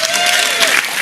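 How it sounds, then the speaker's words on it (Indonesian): A brief burst of audience applause at an evening gathering, a crowd clapping steadily for about a second, with a faint sustained tone running underneath. "Tepuk tangan."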